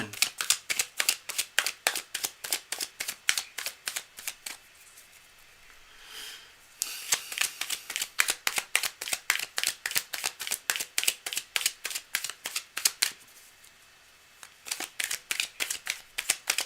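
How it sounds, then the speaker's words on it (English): A deck of tarot-style reading cards is riffled and shuffled in repeated quick bursts of crisp flutter, with brief quieter pauses between runs, close and clear with no talking. "cards are shuffled"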